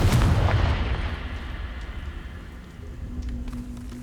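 Confringo fire spell explosion in the video game Hogwarts Legacy, a loud booming blast at the start that rumbles and crackles, then decays into a lingering low roar.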